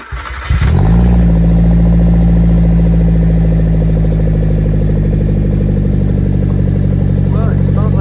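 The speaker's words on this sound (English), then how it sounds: "the engine sounds pretty dang solid" The engine of a Subaru Sambar, just tuned up with new spark plug wires, distributor cap and rotor, cranks and catches. It then settles into a steady, even idle, loud and close, for several seconds.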